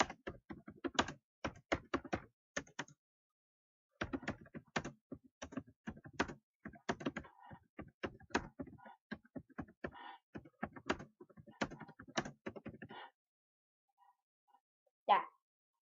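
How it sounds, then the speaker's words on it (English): A computer keyboard is typed on close up in quick irregular bursts of light clicking keystrokes, with brief pauses between runs and a faint tap near the end. "You can type up whatever you want"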